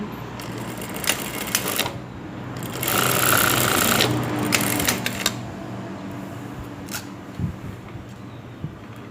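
A sewing machine stitches the side pocket opening of a dress, running in short bursts with one longer fast whirring stretch, close and clear, with clicks and handling noises between runs and no talking.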